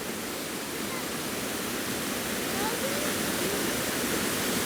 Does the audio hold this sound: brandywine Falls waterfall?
yes